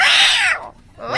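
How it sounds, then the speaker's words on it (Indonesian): A cat meowing up close, one loud drawn-out meow followed by the start of another. "Suara kucing."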